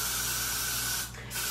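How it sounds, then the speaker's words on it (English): Hairspray is sprayed onto a wig in one long, close, steady hissing burst that briefly dips near the end before resuming. "spray it again"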